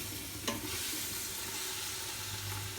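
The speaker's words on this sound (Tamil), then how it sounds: "வெங்காயம் நல்லா வதங்கிருச்சு எண்ணெய் வந்து ஊசாக ஆரம்பிச்சிச்சு" Onions sauté in hot oil with mint and coriander for chicken dum biryani, giving a steady close hiss and crackle with one brief clink of a utensil early on and no speech.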